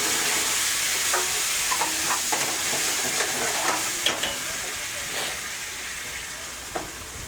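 Masoor dal gravy sizzling and frying in a hot pan, a steady bright hiss with scattered soft stirring knocks and scrapes, close and fairly loud throughout, with no voices.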